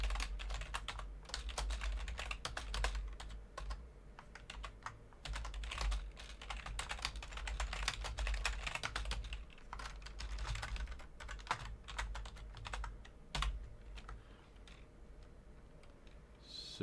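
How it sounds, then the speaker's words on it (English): Computer keyboard typing clatters in quick, irregular bursts of key clicks, fairly quiet and close, with short pauses between runs and no talking. "I looked away from the screen while I was typing."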